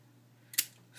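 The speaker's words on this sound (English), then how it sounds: "snip it off and put it somewhere" A single quick scissor snip cuts off a piece of tape, sharp and close, against a quiet background with a faint hum.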